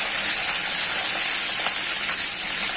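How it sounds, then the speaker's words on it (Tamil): Mustard seeds and urad dal splutter in hot oil, giving a loud, continuous close-up sizzle with faint crackles scattered through it. "கடுகு பொரியட்டும். கடுகு பொரிஞ்சிருச்சு."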